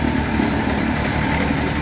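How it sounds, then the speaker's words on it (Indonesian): A baby roller compacting hot mix asphalt runs with a steady, close mechanical engine drone and low rumbling vibration, unbroken for the whole moment. "Bisa dilihat cara bekerja mesin baby roller seperti ini"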